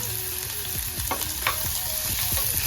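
Finely chopped onion fries in a pan for mutton keema, giving a constant close sizzle with intermittent scraping and clinking of a spatula as it is stirred.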